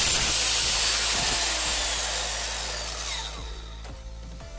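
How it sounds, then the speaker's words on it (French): Aluminium rail cut to length on a table with a power saw: a loud, steady high whine and hiss that gradually fades as the blade spins down, ending with a few light clicks and taps. "Je vais maintenant pouvoir couper ma baguette en alu qui me servira de glissière à la bonne longueur."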